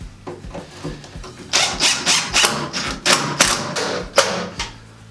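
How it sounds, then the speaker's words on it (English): A power drill pre-drills holes and drives screws for a fiberglass tub surround in a rapid series of short, loud whirring bursts, close up, with brief pauses between. "So we're going to pre-drill our holes."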